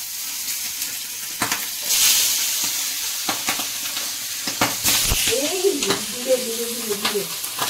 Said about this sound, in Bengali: তেলটা গরম হয়ে গেছে, এখন আমি মাছগুলা ছেড়ে দিব।